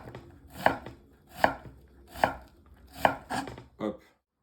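A knife chopping food into small pieces on a board while preparing poached eggs in meurette sauce, five or six distinct close taps at a slow, even rhythm, then silence.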